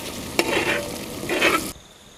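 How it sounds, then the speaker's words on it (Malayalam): Eggs fry in oil in a pan, with a close, continuous sizzle, a sharp utensil tap, and two swelling bursts of spitting as the eggs are turned. "മുട്ടയെല്ലാം വറുത്ത് കോരി എടുത്തിട്ടുണ്ട്."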